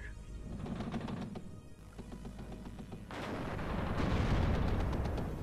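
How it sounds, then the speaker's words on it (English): Gunfire and artillery in the video game WARNO, a dense, continuous rattle of shots with heavy booms that thickens and grows louder toward the end, with no talking. "Oh, everything's firing."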